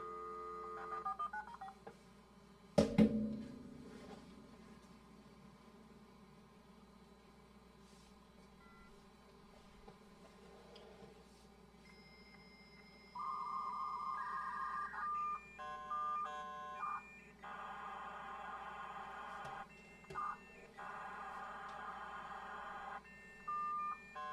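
A dial-up modem dials over a phone line with Juno: a sharp click and low line hum, then a long stretch of steady tones and rapid dialing beeps in quick bursts, fairly faint throughout.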